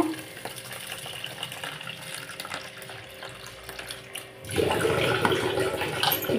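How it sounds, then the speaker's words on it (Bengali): Kitchen tap water runs while broken wheat (dalia) is rinsed, starting softly and then surging into a louder, steady splashing stream for the last couple of seconds. "জলটা পড়ছে, তো ওটাকে আমি বন্ধ করে"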